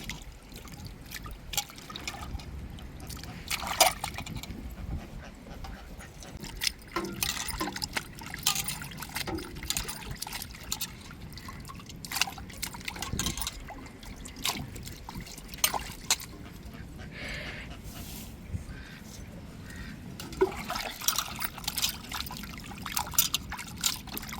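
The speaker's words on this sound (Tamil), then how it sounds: "மீனை அலசி எடுத்துக்கிட்டோம்" Water trickles and splashes steadily while Indian salmon fish pieces are rinsed in a vessel, with irregular pours and drips close by, soft and continuous, with no talk.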